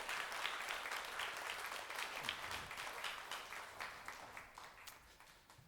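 A church congregation breaks into sustained applause of thanks during a worship service, steady dense clapping that carries evenly from start to finish at a moderate distance.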